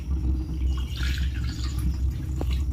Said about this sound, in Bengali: আমি এখন জলটা দিয়ে দিচ্ছি।